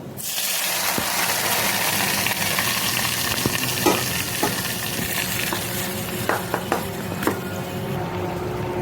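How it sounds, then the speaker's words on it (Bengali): Nigella seeds sizzling in hot oil to make an infused oil, a loud steady fry that holds throughout, with a handful of sharp pops and clicks near the end. "এখন কালিজিরা আর গরম তেল দিয়ে একটা ইনফিউজড তেল বানাবো।"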